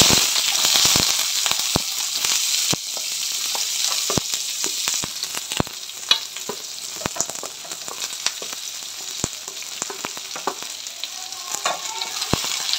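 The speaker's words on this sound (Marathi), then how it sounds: "हलके ब्राउन होईपर्यंत भाजून घेणार आहे।" Two or three chopped onions fry in a little oil in a pan on a gas stove, giving a loud, continuous sizzle dotted with sharp crackles and pops throughout, with no talking.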